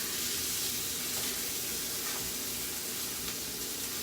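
Sausage and onions frying in a pan for lasagna, a steady dense hiss of sizzling fat that stays even and close throughout, with no talking.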